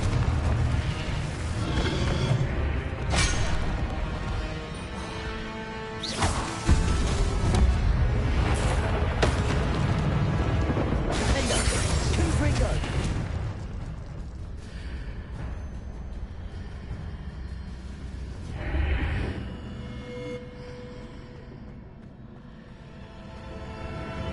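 Loud spell blasts from the Confringo fire spell in the Hogwarts Legacy video game, with heavy booming bursts and rumbling impacts over sustained dense game noise, fading toward the end.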